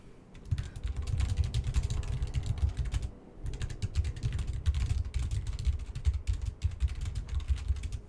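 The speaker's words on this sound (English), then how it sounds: "Can you hear me typing?" Computer keyboard typed on in rapid bursts of clicky keystrokes, a brief pause near the middle, then more fast typing, close and fairly quiet with no talking.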